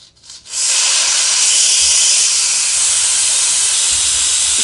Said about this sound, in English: Now let's release the valve.